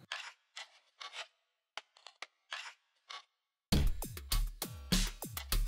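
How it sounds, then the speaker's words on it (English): The yoke and height sleeve slide onto the upright tube of a PRS-26 stand, giving several short, close scraping rubs, then louder metallic clanks and rattles near the end. "Remove it and slide the yoke, then height sleeve onto the upright tube."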